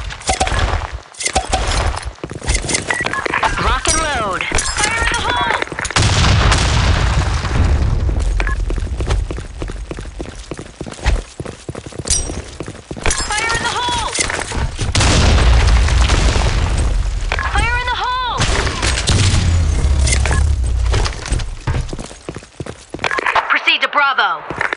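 Grenade blasts and gunfire in the online shooter BlackShot, loud booms and rapid bursts of shots layered with game effects and radio voice callouts, dense and continuous throughout.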